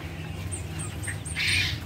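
Quail chicks, newly hatched and a few days old, give brief high chirps and peeps in a short burst, several small calls over a low background hum.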